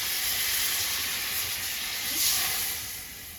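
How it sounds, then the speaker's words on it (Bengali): Water poured into a hot pan of fried potato, eggplant and radish with dried fish sets off a loud, continuous steamy hiss that holds steady, then eases off toward the end. "দিয়ে দিচ্ছি জল।"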